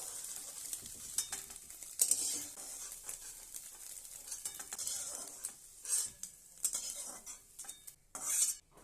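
An egg omelette is stirred and lifted from a pan with a utensil, giving close clattering scrapes and clinks of metal over a faint sizzle, irregular and continuous, with no voices.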